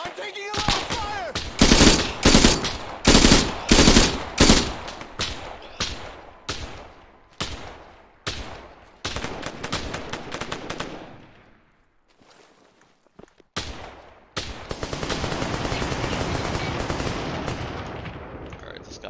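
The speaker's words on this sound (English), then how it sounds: "I'm taking a lot of fire!" Dense rifle and machine gun fire in ArmA 3, rapid loud bursts and single cracks trading back and forth, a brief lull, then sustained distant automatic fire rolling on.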